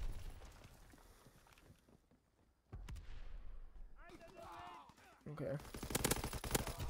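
Bursts of rapid automatic gunfire from a Call of Duty WWII match come and go, quiet at first, then louder sharp volleys near the end, with a brief spoken word in between.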